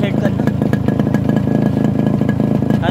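A restored Yamaha RX100 two-stroke motorcycle runs on its original muffler nearby, a loud steady rapid-pulsing exhaust throb with a few clattering knocks.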